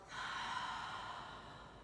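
A long exhale out through the mouth during yoga breathing, a single soft, breathy whoosh close to the listener that swells quickly and then trails off slowly.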